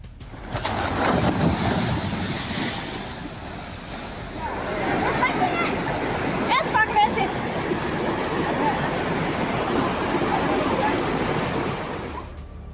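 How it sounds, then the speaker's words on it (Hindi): Floodwaters and waves surge during a cloudburst in Chamoli, Uttarakhand, making a steady, loud roar of rushing water and wind that swells slightly midway. "चारों ओर लहरों का शोर,"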